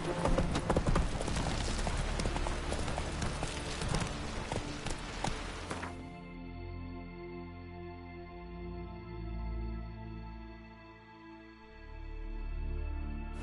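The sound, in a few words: horse Roach galloping in video game The Witcher 3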